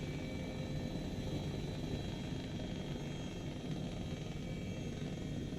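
A video-game helicopter flies a jungle mission after losing an engine, its rotor and engine producing a steady, unbroken droning roar at moderate level, with no speech.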